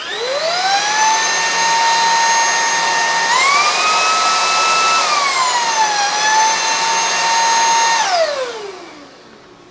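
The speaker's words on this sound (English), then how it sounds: "so the motor down here automatically kicked on, so you have the suction up at the top and the head" Wyze cordless stick vacuum motor whines up, runs at a loud, steady high-pitched hum for several seconds with a couple of slight pitch shifts, then spins down and fades out at the end.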